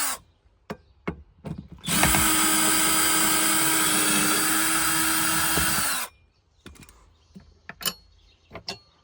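A power drill runs steadily for about four seconds, loud and close, backing out screws holding the second-row seats of a 2019-2021 Ford Everest, with faint clicks and handling noises before and after.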